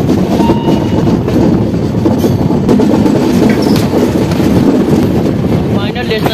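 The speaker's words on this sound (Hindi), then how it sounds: "ट्रेन हमारी इंटर कर रही है बगहा रेलवे स्टेशन मेरा डेस्टिनेशन" Garib Rath Express with new LHB coaches rolls along the rails on a curve into Bagaha station, a steady loud rumble with rhythmic wheel clatter and wind buffeting throughout.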